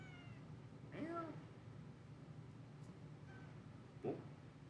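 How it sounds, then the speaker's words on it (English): A house cat meows twice, a few seconds apart, softly and fairly near, each call a short rising-and-falling cry over a quiet room hum. "Meow."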